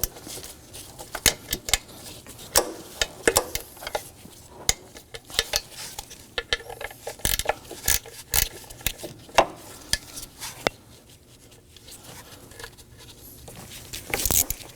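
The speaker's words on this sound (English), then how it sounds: "Using a ratchet and an 8mm socket, now we're going to remove the purge valve." A ratchet with an 8mm socket works bolts loose on the purge valve of a 2014-2020 Acura MDX 3.5L V6. Close, quick clicking bursts arrive in irregular clusters with short pauses between them.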